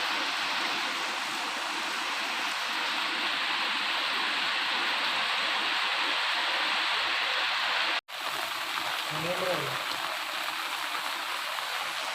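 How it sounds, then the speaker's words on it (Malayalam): Floodwater from a river overflowing onto a road and into shops rushes in a steady, loud, broadband torrent that runs without a break. There is a brief dropout near the end, and a faint voice is heard just after it. "പുഴ കരകവിഞ്ഞൊഴുകിയതോടെ റോഡിലും കടകളിലും വെള്ളം കയറി"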